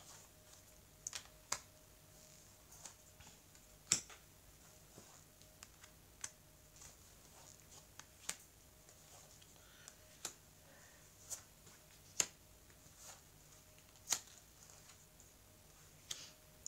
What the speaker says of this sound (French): je vais donc étaler les cartes